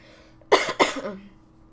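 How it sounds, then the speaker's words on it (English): Two sharp, close coughs from a dry throat in quick succession, followed by a short rasping throat sound, then quiet. "my throat is so dry that it's making me cough"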